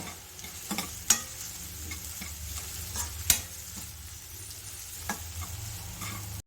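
Onions fry with salt and turmeric in a pan under a continuous sizzle, while a spoon scrapes and taps the pan at irregular moments. The sound is near and steady, with no speech.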